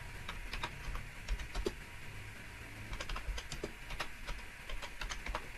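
Rapid keystrokes on a computer keyboard as a prompt is typed, a steady stream of light clicks with occasional louder taps, close and alone with no talk.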